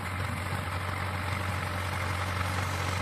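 A handle-started tractor engine runs steadily in a field, a constant low droning hum with a faint higher whine above it, unbroken and without speech.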